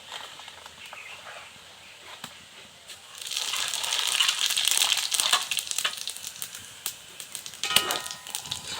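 Dried red chilies and panch phoron five-spice are dropped into hot oil: a faint background hiss swells into a bright, crackling sizzle after a few seconds and then keeps spitting and popping.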